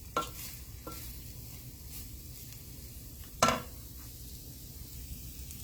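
Onions frying in pork fat give off a quiet, steady sizzle in a pan, broken by a few soft scrapes of stirring and one sharper clank of utensil against metal.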